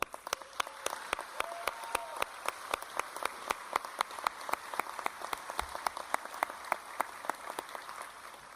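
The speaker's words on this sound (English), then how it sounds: "If you guys could join me in a round of applause for Dr. Holloman." Applause from a commencement ceremony audience honoring a retiring professor, steady crisp clapping from a crowd sustained throughout at moderate distance.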